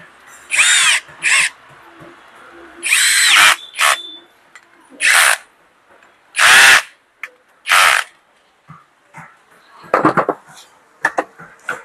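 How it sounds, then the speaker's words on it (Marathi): Nut being tightened while repairing a Tillu domestic water pump motor: repeated loud bursts of power-tool whirring, about half a second to a second each, separated by short pauses, close to the microphone with no talking. "हे नट व्यवस्थित आपल्याला फिटिंग करून घ्यायचे"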